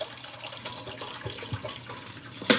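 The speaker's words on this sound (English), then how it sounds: "I'm just putting the water for the rice." Kitchen tap running water into a pot for cooking rice, a steady close splashing hiss with small drips and slight variations, ending in a sharp louder clatter.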